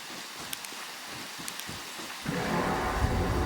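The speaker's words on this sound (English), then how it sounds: "That rain is crazy." Heavy rain and thunder in a harsh winter survival video game, a steady hiss of rain that swells into a loud, dense downpour partway through, with rumbling underneath and no talk.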